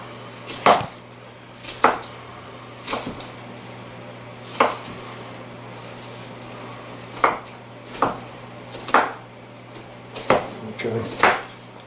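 A knife chops onion on a cutting board in a home kitchen, with about a dozen separate sharp thuds at an uneven, unhurried pace, close and fairly loud.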